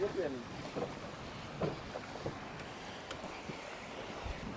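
A fishing boat at sea off Malpe, with soft water sloshing and wind against the hull, plus occasional knocks and faint distant voices, all quite quiet.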